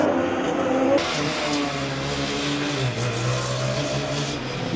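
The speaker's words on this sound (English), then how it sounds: "Big metally clunky sound from the TU Berlin car as they enter the track." A single sharp metallic clunk from the TU Berlin Formula Student race car as it rolls onto the endurance track, then a steady, close engine drone with no talk.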